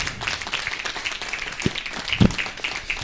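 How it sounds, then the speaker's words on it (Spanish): A church congregation in a hotel hall claps together after a sermon, a moderate, somewhat uneven patter of hands with a few louder thumps near the end. "le damos un aplauso al Señor Jesucristo."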